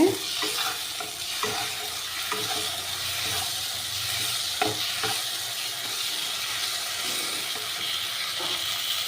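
Spice paste fries in oil, a continuous soft sizzle with scraping stirs and occasional clinks of the spoon against the pan.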